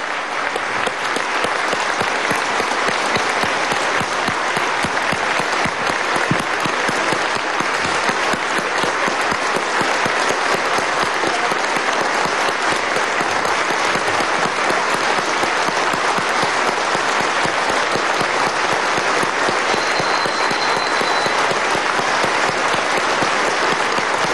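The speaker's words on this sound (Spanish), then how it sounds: "vamos a darle un minuto de aplauso" A long, loud, unbroken ovation from a crowd at an anti-imperialism gathering in a Caracas hotel, honoring General Qasem Soleimani; dense clapping holds at an even intensity for the full span without speech.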